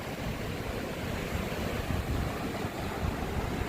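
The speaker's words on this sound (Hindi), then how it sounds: "ये है लिंगटी वाटरफॉल" Lingti waterfall in the Spiti valley, split into three streams, rushes in a steady, dense roar of falling water, loud and continuous from start to finish with no voices.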